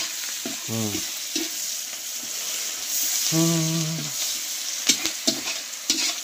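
Rohu fish frying in a pan, with a constant bright sizzle, sharp spatter pops and scraping stir strokes, plus two brief tonal bursts of voice or background sound.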